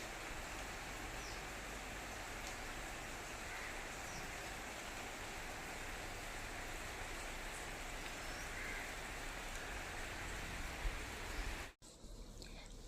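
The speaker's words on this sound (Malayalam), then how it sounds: "അങ്ങനെ നമ്മുടെ മഴ വന്ന് അടിപൊളിയായിട്ടൊരു മഴ പെയ്തുകൊണ്ടിരിക്കുകയാണ്." Heavy rain falls outside a house as an even, soft hiss that stays constant. It cuts out briefly near the end, then resumes.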